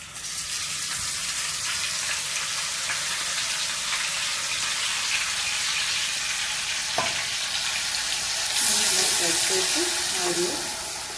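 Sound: bitter gourd masala frying in oil

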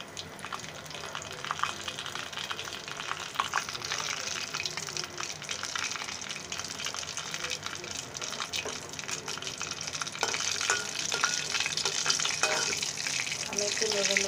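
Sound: bay leaves and panch phoron spices frying in hot oil

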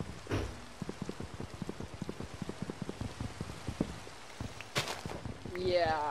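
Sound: rain falling in Minecraft video game

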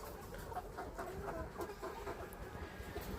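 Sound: layer chickens in a cage

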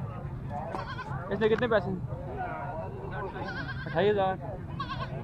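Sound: Beetal goats bleating at goat market

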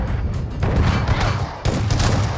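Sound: shotgun gunfire in a video game

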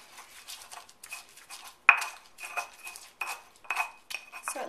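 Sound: mashing chopped cilantro into a paste against bowl sides

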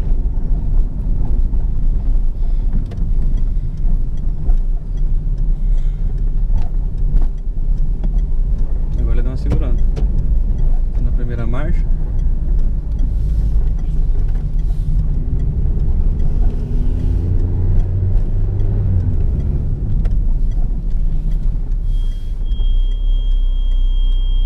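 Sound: Citroen C3 automatic car driving, onboard

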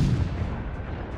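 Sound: naval gun firing AP shells in World of Warships video game

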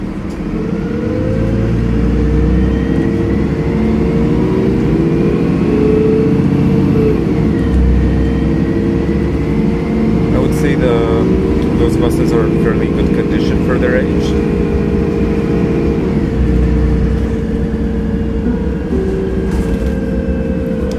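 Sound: MAN NL223 city bus engine

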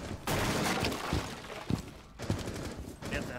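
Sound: gunfire and breaking glass in the video game Rainbow Six Siege

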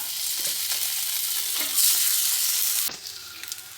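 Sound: lightly frying breakfast pieces in a pan

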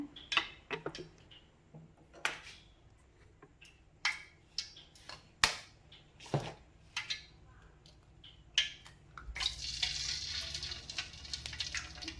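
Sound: eggs cracked into hot oil, frying

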